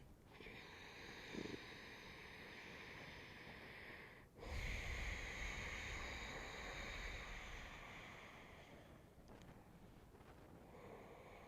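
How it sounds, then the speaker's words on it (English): Ujjayi pranayama breathing in and out through the nose with a slightly constricted throat gives a soft, ocean-like rushing hiss, with one long breath followed by another after a brief pause, close and quiet. "It's breathing in and out through the nose and slightly constricting the back of the throat"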